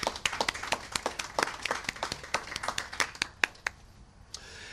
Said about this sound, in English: let's give a round of applause and clap to celebrate our online worshipers.